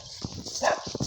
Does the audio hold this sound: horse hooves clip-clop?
yes